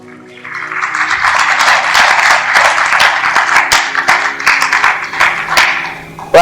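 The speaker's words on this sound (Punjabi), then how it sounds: "ਤਾਲੀ ਮਾਰੀਏ ਜ਼ੋਰ ਦੀ" A church congregation claps loudly and together during a sermon. The applause is dense and sustained for several seconds, with sharp individual claps standing out, and it swells and ebbs slightly before a final burst.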